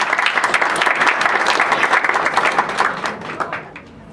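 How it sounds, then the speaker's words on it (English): Applause from the audience at a Democratic club meeting, a dense, lively burst of many hands clapping that fills the room and fades slightly toward the end. "Big round of applause."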